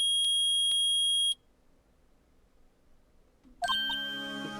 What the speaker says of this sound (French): Le détecteur de métaux a trouvé quelque chose.